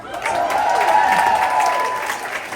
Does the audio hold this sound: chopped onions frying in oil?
no